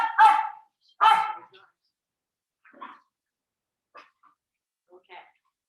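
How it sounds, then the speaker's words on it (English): Several dogs from a passing pack walked by a dog walker bark in two loud, close bursts, followed by a few fainter, more distant yips and barks spaced over the next seconds, with no talk. "There's a dog walker with like 10 dogs walking past."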